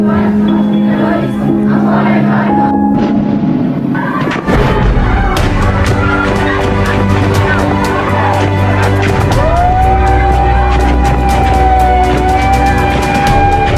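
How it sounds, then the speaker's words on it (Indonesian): Chaotic, loud scene during the 1991 Santa Cruz massacre in Timor-Leste, with a rising siren wail and sharp bursts of gunfire amid crowd noise and rumbling, continuous throughout. "Sirine dan suara letusan tembakan memekik telinga."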